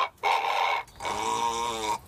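A rooster kept in an urban backyard gives two loud, close vocal bursts with a short gap between them, the second longer and harmonically rich, with no talk over it.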